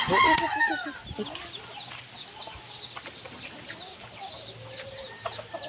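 Wild junglefowl rooster crowing loudly and close at the start, followed by softer clucks and chatter from fowl over a quiet outdoor background.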